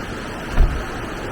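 Heavy rain roars outside a car shop, a loud, constant wash of noise with a low thump midway through and no talking.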